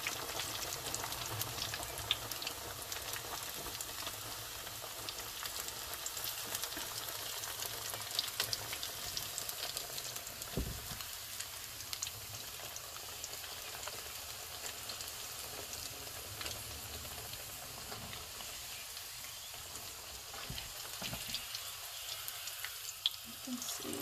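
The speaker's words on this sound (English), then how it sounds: "Now I will put the qatlama in the pan like this. The oil should be smoking hot." Qatlama, a fried pizza-like dough, fries in smoking hot oil with a continuous, dense crackling sizzle that stays steady and fairly close throughout, with no one talking.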